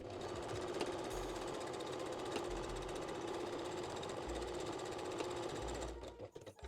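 A sewing machine runs steadily, stitching the back side seams of a reversible bikini bottom, with a rapid mechanical chatter and low thumping pulses, close and continuous before stopping near the end.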